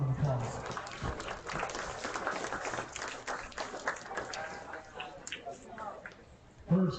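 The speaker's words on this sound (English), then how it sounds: "Let's go ahead and give both exhibitors a nice round of applause." An audience at a county fair sheep show applauds the exhibitors, a broad patter of clapping from a crowd in an arena that swells and fades, with voices mixed in.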